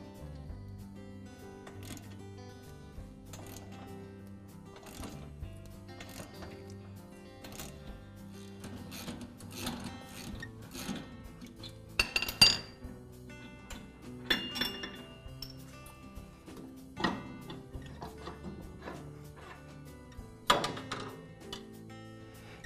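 Metal tools on a Troy-Bilt Pony lawn tractor, a pipe wrench on the pulley spindle and a ratchet from beneath loosening the pulley bolt, with scattered close clinks, taps and metallic knocks over a quiet background, no talking.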